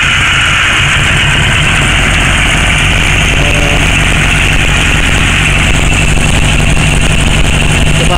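A warmed-up Kawasaki KZ900 motorcycle engine idles steadily with a low, even throb and a constant mechanical hum, close and loud throughout without pauses.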